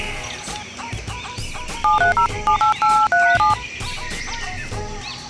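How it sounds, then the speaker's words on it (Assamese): Telephone keypad dialing tones: a quick run of about ten short beeps in uneven groups over a steady background murmur, with faint bird or fowl calls around. "ফোনটো কৰি লওঁ আৰু"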